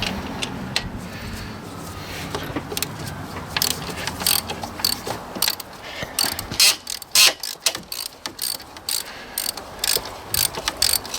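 A ratchet undoes a 15mm alternator bolt on a 2009 Ford Fiesta, giving rapid, loud metallic clicking in uneven bursts. It starts as a smoother run and turns into choppy, close pawl ticks.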